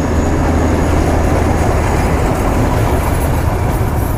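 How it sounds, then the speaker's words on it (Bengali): A Darjeeling toy train passes close by on its hill railway, a steady loud rumble and rattle of the small train that fills the whole stretch with no voices. "যাক টয় ট্রেনটাও দেখা পেয়ে গেলাম"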